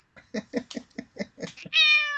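A pretty cat with green eyes meows in a quick series of short, close chirping calls, ending in one longer, drawn-out meow.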